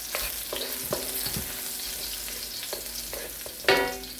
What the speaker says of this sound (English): You just want to do a little quick saute. You want that to infuse with the oil